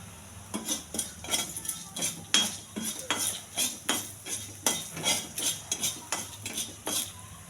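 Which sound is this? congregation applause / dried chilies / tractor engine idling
dried chilies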